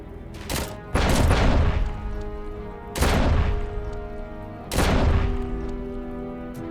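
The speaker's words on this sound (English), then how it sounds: "I probably could just shoot them and blow them up" Landmines shot and blown up in RoboCop: Rogue City: a gunshot followed by four loud, close booming explosions spaced about two seconds apart, each with a long rumbling tail.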